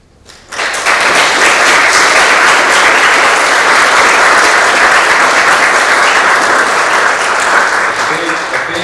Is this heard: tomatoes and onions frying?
no